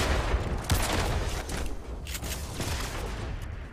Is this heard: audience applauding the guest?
no